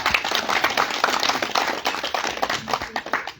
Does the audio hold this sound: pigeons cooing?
no